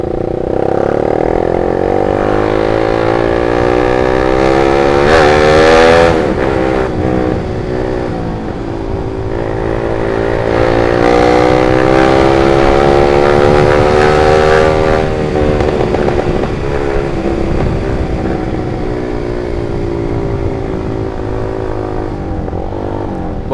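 A stock-engine Honda CBR150R with a remapped ECU and a 12,000 rpm limit runs loud and close, a steady rumbling idle with rising and falling revs throughout, and no voices.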